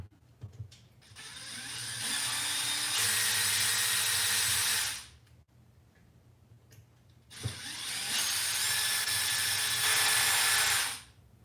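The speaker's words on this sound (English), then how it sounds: "last thing is take off the 2 screws up top for the shock tower" Power driver unscrewing the shock tower screws on a Bandit RC car, two sustained whirring runs of about three seconds each separated by a short pause, close and fairly quiet with no talking.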